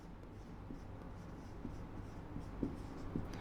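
Faint chalk or marker strokes on a classroom board during a Rajasthan geography lesson, a few soft scratchy taps and rubs over a low background hum.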